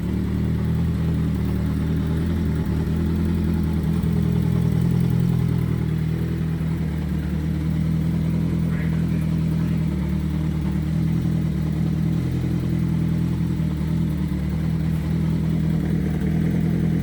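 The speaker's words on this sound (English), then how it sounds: "we'll get to Andy's Kawasaki 750 Turbo" A Kawasaki 750 Turbo motorcycle engine runs steadily at idle, a low continuous rumble with light mechanical clatter, close and alone without talk.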